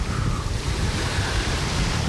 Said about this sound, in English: Listen to the howl of that wind